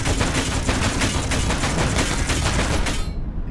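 Tank gun from Space Engineers firing at a target, a dense rapid string of loud shots hammering in quick succession for several seconds before cutting off abruptly.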